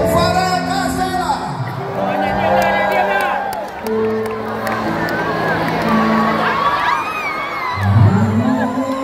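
A large crowd at a live pop concert in Indonesia cheers, whoops and claps loudly and continuously, with sustained music tones and shouting voices mixed into a dense, roaring wash of noise.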